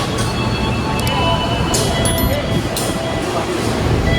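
Steady loud rumble and rattle of the moving Sawunggalih passenger train to Purwokerto, Indonesia, heard from inside a premium carriage, with occasional high squeals and clicks over the constant noise.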